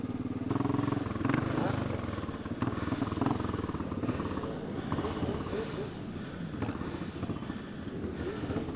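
A Suzuki Gixxer motorcycle rides through a crowded rally of motorcycle and scooter riders at Parliament Square in London, its engine rumbling steadily among other bikes under continuous crowd noise and voices.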